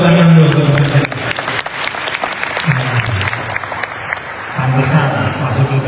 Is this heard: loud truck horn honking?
no